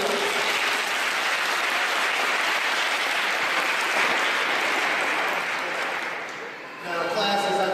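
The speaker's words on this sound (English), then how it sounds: "Can I get a round of applause if you do this?" Sustained applause fills a graduation ceremony hall, dense clapping from a large audience that dips briefly near the end before picking up again.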